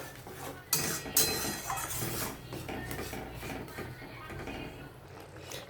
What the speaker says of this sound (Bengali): এটাকে ভালো করে রান্না করে নেব এইভাবে নাড়িয়ে চাড়িয়ে।